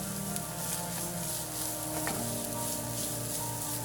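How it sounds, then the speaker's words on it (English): Frozen grated coconut frying in a pan for coconut rice, a steady soft sizzle and crackle that holds evenly throughout, close and fairly quiet with no voices. "Make sure don't over fry the coconut."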